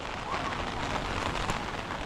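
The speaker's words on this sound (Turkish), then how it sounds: "Havada yağmur yağmaya devam ediyor." Steady, dense rain pattering on surfaces all around in Tokyo, a continuous hiss with no breaks.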